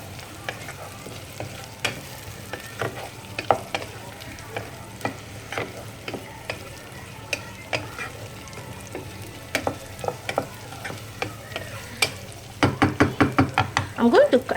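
A spoon stirs potatoes into sardine curry in a frying pot, with irregular knocks and scrapes against the pot and a quick burst of rhythmic stirring at the end, while someone talks intermittently.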